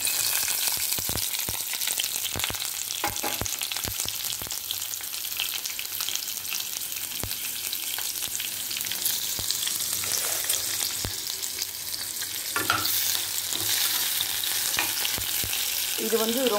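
Onions and green chilies sizzle and crackle steadily in hot oil in a pan, with occasional stirring scrapes and clinks, close and continuous with no talking.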